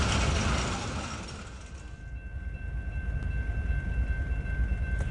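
Union Pacific train rolling past a neighborhood, a loud broadband rumble and clatter of wheels on track with a steady high squeal, easing briefly then swelling again, no voices.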